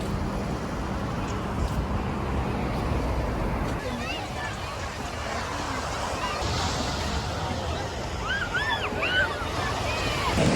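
Surf rolls in at Ipanema Beach in Rio de Janeiro under constant wind buffeting the microphone. Crowd voices and chatter drift through the broad, washing roar of the waves.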